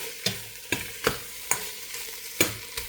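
Chicken stir-fried in a pan: a steady sizzle runs throughout, broken by about six sharp spatula scrapes and knocks at an uneven pace, close and fairly loud, with no talking.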